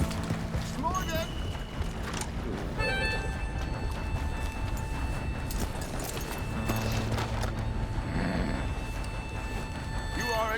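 Horse hooves clip-clop steadily at a riding pace in Red Dead Redemption 2, with a brief whinny, a low tonal music bed and some game sound effects around the hoofbeats.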